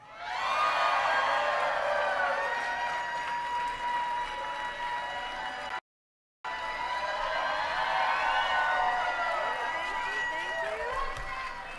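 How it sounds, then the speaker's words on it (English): A large outdoor crowd at a Kamala Harris campaign rally cheers and whoops steadily, a dense roar with scattered shouts that drops out briefly midway and then resumes. "Oh, what a crowd we have here today."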